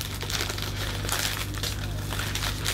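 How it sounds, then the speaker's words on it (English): Cellophane wrapping is crinkled and tidied around a flower vase, a close, busy run of sharp crackles and rustles that continues without pause. "we can then tidy up the cellophane"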